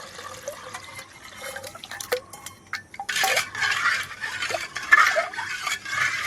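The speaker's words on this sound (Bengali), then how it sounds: "এবার আমি ঠান্ডা জল দিয়ে দিলাম" Cold water pours into a mango juice drink being mixed, a close, bright splashing and trickling that builds and grows fuller toward the end, with no talking.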